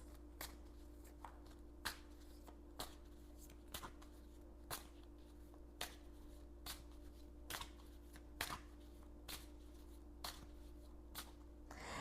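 Oracle cards are shuffled by hand in a quiet room, producing a series of short, crisp riffling snaps at a loose, fairly regular pace over a low, steady background hum.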